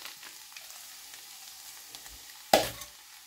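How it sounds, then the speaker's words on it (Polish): Peas tip into a pan of gently softened onion and meet the hot fat with a sudden loud sizzle that follows a quiet low frying hiss, then the sizzle fades back down. "Dołożymy teraz groszek."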